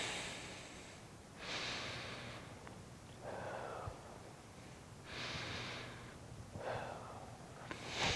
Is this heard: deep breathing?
yes